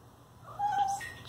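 A cat lets out a single short meow, close and fairly clear, over a quiet room background.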